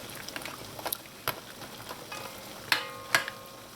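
Trinidad curry crab sauce simmers and thickens in a pot, a soft steady bubbling with a few sharper pops and ticks, close and fairly quiet.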